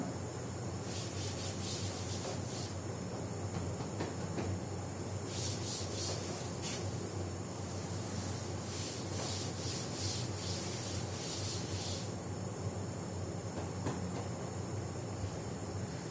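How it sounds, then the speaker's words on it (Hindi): A board is wiped clean of writing in a classroom, making a steady, fairly quiet scrubbing and rubbing noise that keeps going, with brief stronger strokes, against a constant background hum. "मैं रब कर रहा हूं"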